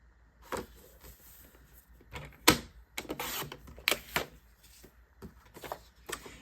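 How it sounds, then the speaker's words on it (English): Scrapbook paper is trimmed down to size with a series of short, sharp cutting and clicking sounds in an irregular rhythm, heard up close and quiet with nothing else around it. "So I'm going to cut this down to 9 1/4."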